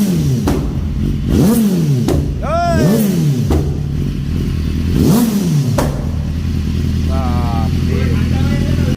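A loud superbike engine revs in repeated sharp bursts, each rising then falling, close by on a street. Steady idle rumble runs underneath, with some background voices.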